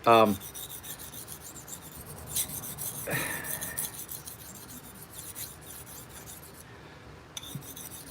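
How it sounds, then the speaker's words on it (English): A knife blade is drawn across a coarse sharpening stone in light deburring passes, giving a soft, steady rasping scrape close up and fairly faint, with a few sharper strokes. "passes on that stone, just to do a deburr."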